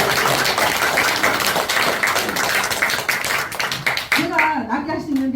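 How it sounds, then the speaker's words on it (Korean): Audience clapping during a talk on tea and health at a Buddhist temple, a loud, dense round of hands clapping that stops abruptly before a voice begins speaking. "박수 한번 쳐보세요"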